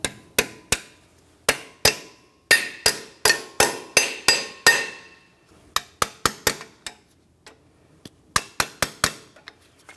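Sharp metallic taps on a Jeep Grand Cherokee rear brake part being seated into place, a series of separate light strikes in irregular clusters with short gaps, close and clear with no talking.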